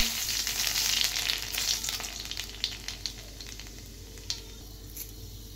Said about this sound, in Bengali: এইদিকে কড়াইতে তেল গরমও হয়ে গেছে। এবার ফোড়ন দিয়ে দেব।